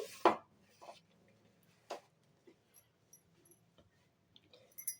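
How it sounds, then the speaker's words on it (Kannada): Maida dough kneaded by hand, giving a few soft, sparse slaps and presses spaced out over a quiet background, with no talking. "ಸ್ವಲ್ಪ ಸ್ವಲ್ಪನೇ ಹಾಕ್ಕೊಂಡು ಚೆನ್ನಾಗಿ ನಾದ್ಕೊತೀನಿ"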